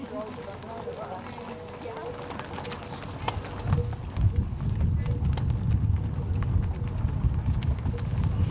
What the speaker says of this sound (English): The drive trots through the tiny community of Jardine before finally reaching the ranch